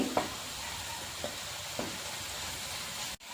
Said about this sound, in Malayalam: ഇനി നമുക്ക് ഇതിലേക്ക് പൊടികൾ ചേർത്ത് കൊടുക്കാം. 1 ടീസ്പൂൺ മുളക് പൊടി,